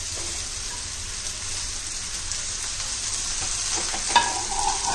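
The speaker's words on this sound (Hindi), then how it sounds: "और अब इसमें हम ये तोरी डालने जा रहे हैं" Zucchini (tori) fries in a pan with a dense, loud, constant sizzle. A few faint stirring scrapes and one sharper clink come near the end, with no talking over it.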